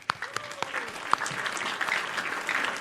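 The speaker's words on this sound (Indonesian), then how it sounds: "Kita sambut dengan tepuk tangan Kang Miftahul Huda." An audience welcomes a guest at a show taping, starting with a few sharp separate claps that build into steady applause.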